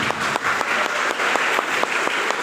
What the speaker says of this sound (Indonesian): Tepuk tangan for Tuhan Yesus.